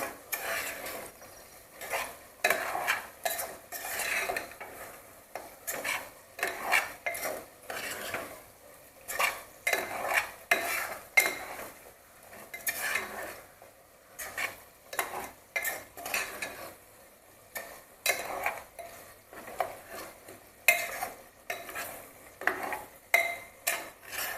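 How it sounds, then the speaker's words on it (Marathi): Ground masala for mutton korma sautés in a pan, a quiet sizzle under repeated rhythmic scraping and clinking of a spoon against the metal, close up with no talking. "मसाल्याबरोबर चांगलं परतून घेऊया"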